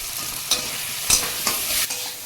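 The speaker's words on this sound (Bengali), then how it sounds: "কুমড়ো আলুটা ভালো করে নেড়ে চেড়ে একটু কষিয়ে নেবো" Pumpkin and potato curry with onion, ginger, turmeric and salt stirred and fried in a pan, a steady close sizzle punctuated by a few sharp scraping stirs, with no talk.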